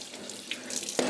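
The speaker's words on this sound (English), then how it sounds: "is cleaning the dishes" Tap water runs steadily into a kitchen sink as dishes are washed, a close, constant splashing hiss with a brief clatter near the end.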